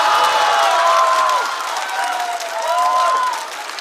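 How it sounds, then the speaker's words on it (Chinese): A live stand-up comedy audience claps and cheers in a dense wash of applause. Voices carry over the clapping, and the applause eases off slightly toward the end. "掌声再次送给王冕"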